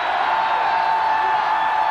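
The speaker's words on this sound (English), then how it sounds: "Well, the crowd will go at it again." A 1985 college football stadium crowd at Texas A&M hosting Texas roars steadily as a dense, sustained wall of cheering. A faint whistle-like tone carries through it, and no clear talk rises above the noise.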